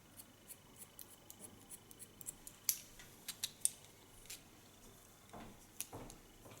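Scissors snipping hair during a bob-to-pixie haircut, a series of quiet, crisp close-up snips at an uneven pace over a faint hushed background.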